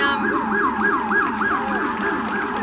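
A wailing emergency siren cycling up and down in rapid, regular sweeps, fairly close and loud, with no talking.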